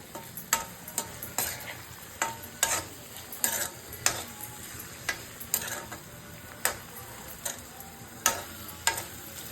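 Bitter gourd curry being stirred in a pan, a soft background sizzle punctuated by a regular series of sharp clinks and scrapes from a spoon against the metal, roughly one every second.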